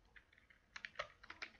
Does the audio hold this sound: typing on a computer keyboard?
yes